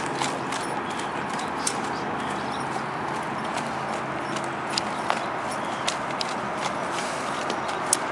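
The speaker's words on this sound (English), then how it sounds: "Registered quarter horse mare, buckskin," Steady outdoor rumble with faint, irregular hoof clops from a walking buckskin quarter horse mare, soft and somewhat distant, with occasional sharper knocks.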